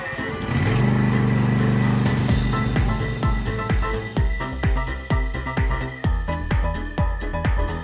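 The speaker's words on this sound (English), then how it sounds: "Right now I'm gonna be driving this tractor to go get the compost from the garden." Tractor driving on a farm while hauling compost from the garden, a loud engine drone that soon gives way to a run of regular thumping knocks and rattles as it rolls along.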